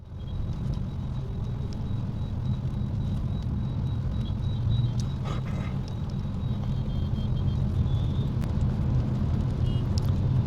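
A car being driven gives a steady, loud low rumble of engine and road noise that stays constant throughout, with no talking.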